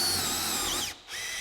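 A power drill bores through a timber beam, its high whine steady and close, dipping briefly as the bit bites and then spinning back up.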